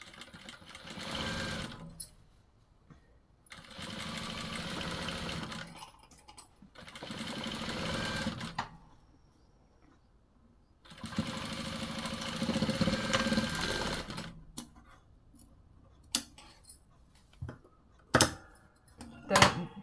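A sewing machine stitches a folded strip onto a blouse in short bursts of rapid whirring. Quiet pauses fall between the runs, and a few sharp clicks come near the end.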